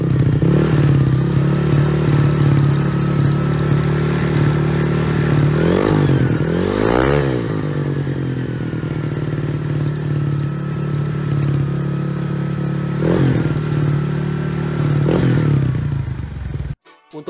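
A Honda Vario 125 scooter fitted with an RD racing exhaust revs loudly at close range, its steady engine drone rising in several sharp throttle blips before cutting off abruptly at the end.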